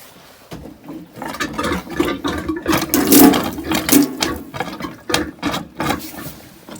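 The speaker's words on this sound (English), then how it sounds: "That drain, which is pumped with that foot pump" A foot pump works a boat's drain in a series of quick squeaky, splashy pumping strokes, uneven in rhythm and fairly close, with no voices.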